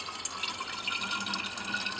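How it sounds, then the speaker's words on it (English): A dense, chilled bromine and dichloromethane mixture is poured into a glass separating funnel, giving a steady close-up trickle and splash of liquid with small drips. "Now pour in the chilled mixture."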